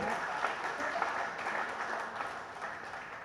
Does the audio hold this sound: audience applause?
yes